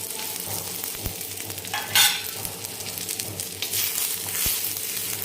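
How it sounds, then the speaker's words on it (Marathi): Onion frying in oil in a pan, a steady close sizzle broken by occasional spoon knocks and stirring scrapes, one louder burst near the middle, no voices. "तेलामुळे एकदम झटपट भाजला जातो हे अशा प्रकारे आपला कांदा छान भाजला"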